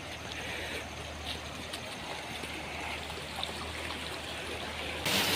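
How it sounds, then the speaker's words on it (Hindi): A mountain waterfall pours into a river near a farm, a steady broad rushing roar of flowing water that stays constant throughout. "वहाँ से ये एक झरना गिर रहा है, देखिए।"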